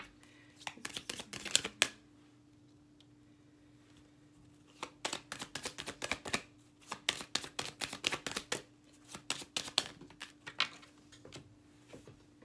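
Tarot cards being shuffled, giving soft irregular flurries of riffling and tapping at close range in a quiet room, in several separate bursts.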